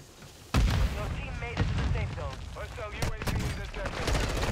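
Gunfire in Call of Duty Warzone: several sharp shots and blasts, one loud burst followed by scattered cracks, mixed under steady talking between players.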